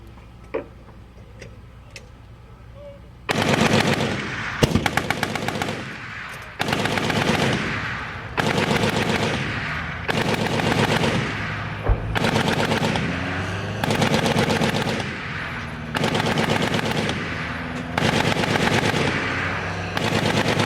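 M992 ammunition carrier track with a fixed .50 cal machine gun firing on targets during a Fort Sill live fire exercise: repeated loud bursts of rapid automatic fire, each lasting about a second, separated by short pauses.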